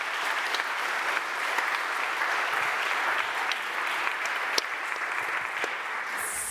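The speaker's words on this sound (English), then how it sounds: "If we could give both our speakers another round of applause." An audience at a scientific general meeting applauds the speakers, a dense, steady wash of many hands clapping at an even level for several seconds, with no voices over it.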